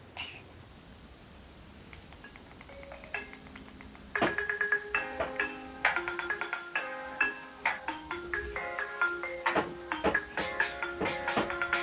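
A phone ringtone plays on its own as a bright electronic melody of repeated chiming notes, with a sparse quiet intro before a louder, busier stretch with a steady beat-like pulse.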